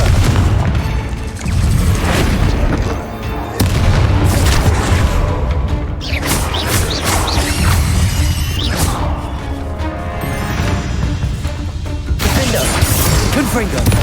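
Repeated booming blasts and shattering crashes from the Confringo fire spell in Hogwarts Legacy, loud and dense across a chaotic fight, with a voice speaking over the bursts.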